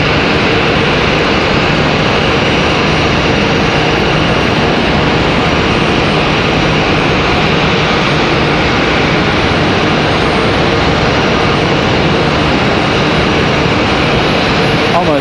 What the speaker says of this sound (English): Looks like our next arrival is going to be Republic Airways 4487 coming in from LaGuardia